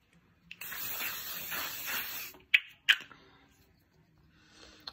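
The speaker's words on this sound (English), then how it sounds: "And let's just put some spray on." An aerosol spray hisses steadily for about two seconds, followed by a couple of sharp clicks, then near silence.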